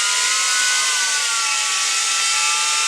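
Motors of a Tarantula X6 drone spinning at low throttle, a steady high-pitched whine with tonal layers, continuous and fairly close, with no voices.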